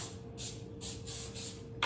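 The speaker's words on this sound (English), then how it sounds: "baking dish we sprayed with a version of Pam" Cooking spray, a Pam-style oil, hissing into a baking dish in short repeated bursts of about four sprays, close and fairly soft over a quiet kitchen hum.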